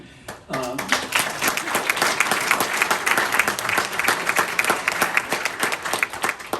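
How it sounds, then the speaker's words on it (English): Audience applause at a lifetime achievement award ceremony, starting abruptly and holding as a loud, dense, sustained clatter of many clapping hands filling the hall. "Hold for applause."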